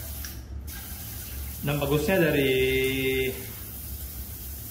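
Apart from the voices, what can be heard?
Kohler shower WC bidet sprayer spraying water at full pressure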